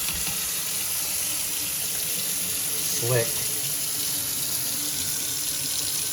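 A 30-year-old single-handle Delta kitchen faucet fitted with a new aerator runs water steadily into the sink, a close, constant hiss under which a person briefly speaks.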